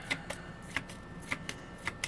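Tarot cards being shuffled by hand in a live reading, a quiet series of crisp riffling snaps and soft taps in an uneven rhythm, close but faint, with no speech.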